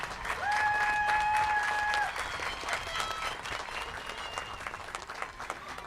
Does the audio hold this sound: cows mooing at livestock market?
no